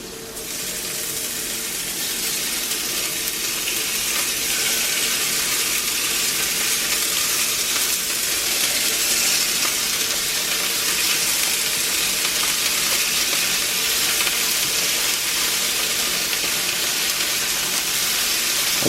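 Salted beef and mushrooms sizzle steadily in a hot cast iron pan, a loud, continuous hiss of frying that holds evenly throughout with no talk.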